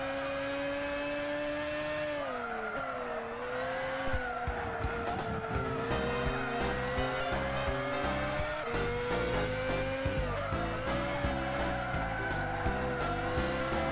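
Race car driven hard in Gran Turismo 6, a loud, continuous engine whine rising and falling through repeated gear shifts, with some tire noise, and no talking.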